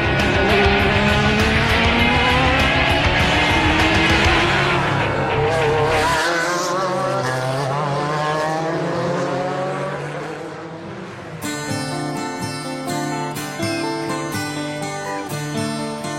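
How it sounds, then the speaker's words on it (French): Race cars lap the Le Mans circuit at night, their engines droning and sweeping in pitch as they pass. Bright, steady music takes over for the final few seconds. "lorsque les voitures continuent de tourner dans la nuit"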